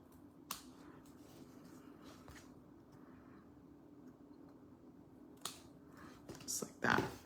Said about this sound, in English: we're gonna take our snips and we're gonna snip that off